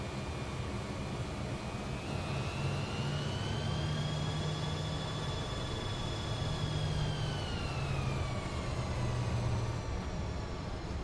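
A Fokker F28 airliner taxiing in a flight simulator game, with a steady loud jet engine whine that slowly swells and falls in pitch over a constant low rumble.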